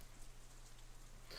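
Rain patters on an umbrella in a Katawa Shoujo rainy picnic scene, a faint, even, soft hiss of drops with no voices.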